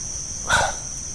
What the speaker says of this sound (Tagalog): Yung mga aso na yan